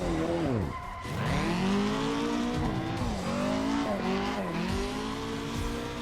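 A Toyota AE86 drifts downhill on Mount Akina, its engine revving high and rising and falling through the gears, with sustained tire squeal layered over a loud, continuous roar.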